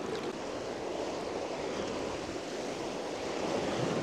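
Rushing river rapids, a steady broadband roar of churning water with some wind, continuous and fairly loud throughout, no talk.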